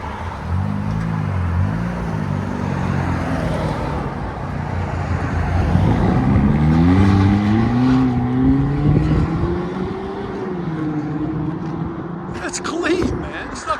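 Revving from a 2013 Ford Escape 2.0 Turbo with a straight-pipe exhaust, its engine note climbing and falling in repeated rising sweeps, loud and close, with a voice speaking over parts of it.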